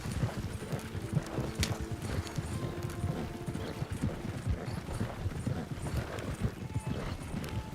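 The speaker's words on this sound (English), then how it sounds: "we got these horses moving down the trail at a pretty good pace" Horses moving down a trail at a pretty good pace, hooves clip-clopping in a steady, dense rhythm over a constant outdoor rumble, with no voices.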